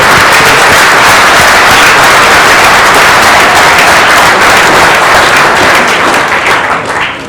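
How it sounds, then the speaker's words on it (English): An audience at a business model contest gives loud, dense applause, many hands clapping continuously close by before it starts to thin at the end. "Round of applause."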